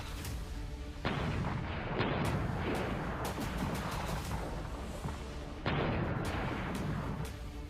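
Heavy gunfire and explosions on the Pakistan-Afghanistan border, loud repeated blasts and sharp shots one after another, with booming impacts around the first and sixth seconds.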